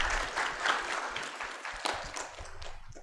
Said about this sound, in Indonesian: Tepuk tangan untuk Pak Dekan.